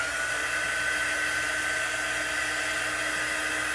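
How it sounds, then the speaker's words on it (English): A hair dryer runs in a steady, loud, continuous whir, blowing over a freshly washed chalk transfer stencil for door decor. "And then let's dry Steve"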